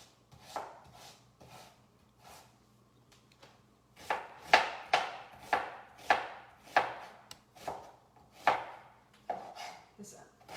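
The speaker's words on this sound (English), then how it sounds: "I'm going to chop up an onion" A dull kitchen knife chopping an onion on a board, a few light cuts at first, then a quicker run of firm, evenly spaced chops up close.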